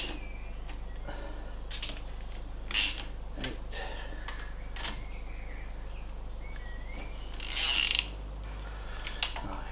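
Ratchet socket wrench tightening the cylinder head bolts on an MGB, using only the very end of the socket: a few short ratcheting clicks and brief bursts, mostly faint, with two louder rasps standing out among quieter metallic ticks.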